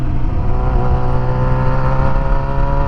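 A Yamaha FZ6R motorcycle engine running steadily under load while riding, a loud close engine drone with a sustained harmonic tone and slight pitch shifts, wind rushing underneath.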